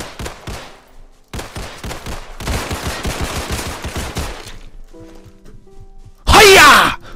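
Gunfire in the Roblox game Criminality, with rapid bursts of shots at the start, a long sustained volley in the middle, then a very loud close blast near the end.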